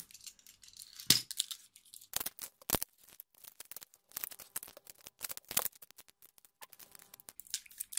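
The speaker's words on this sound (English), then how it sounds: "I'm just going to cut the sticky tape to release it" Scissors cut through sticky tape wrapped on heavy-duty hoop skirt boning, quiet close snips and crackles in scattered bursts with pauses between, and no talking.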